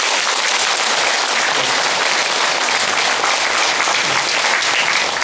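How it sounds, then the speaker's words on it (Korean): A hall audience at a Korean meditation and Zen Buddhism forum applauds the monks and dharma teachers, a loud, dense, unbroken wash of clapping that stays level throughout. "여러분 우리 앞에 계시는 큰 스님들과 우리 법사님들께 박수를 한번 쳐주십시오"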